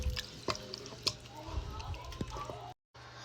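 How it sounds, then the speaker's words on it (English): Deer chili simmering in a pot is stirred, giving soft, wet squelches and small drippy plops in an irregular rhythm, heard close and fairly quiet. "I'm going to stir it up and let it simmer just a little bit more."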